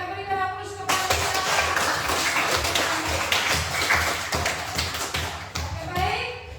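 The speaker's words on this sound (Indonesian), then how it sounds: "kita berikan aplaus kepada kita" Applause from students in a class session, broadband clapping filling the room for about five seconds after a brief pause, with a voice and some tapping mixed in.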